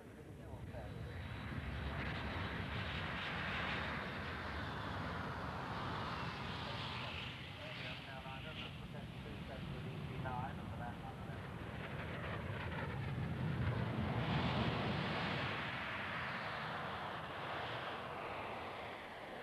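A BAe-146 short-haul jet's engines roar steadily throughout at an aircraft display, loud and continuous with a rushing broadband tone, while someone speaks over it.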